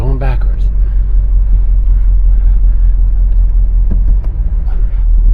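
A car reverses into a parking spot at a dealer auction, its engine a steady, close, low rumble throughout, with a brief voice near the start.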